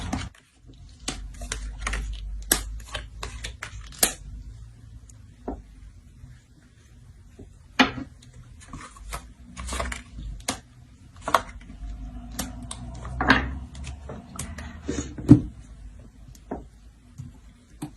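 Tarot cards being shuffled by hand, heard as scattered soft clicks and flicks, close and quiet, with irregular bursts against a low background rumble.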